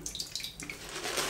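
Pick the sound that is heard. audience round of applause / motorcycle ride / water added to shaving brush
water added to shaving brush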